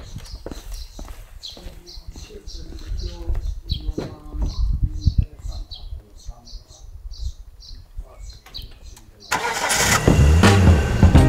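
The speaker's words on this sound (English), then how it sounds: "we gotta get in the car and get going for one last touristy item here in Brasov." A car engine starts and revs up loudly near the end, after a long stretch of street ambience with distant clip-clop and chatter, setting off for a tourist stop in Brasov, Romania.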